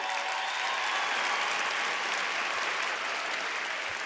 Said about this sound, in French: Oui, vous pouvez applaudir, c'est cool ça, non?